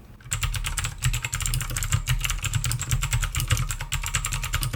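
Fast, continuous clicky typing on an ABKO K590 mechanical keyboard with blue switches, with sharp, crisp keystrokes over a low steady hum in the background.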